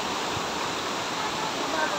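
Malingin Falls in Cortes, Bohol, pours as a steady, dense roar of falling water, loud and unbroken throughout at close range.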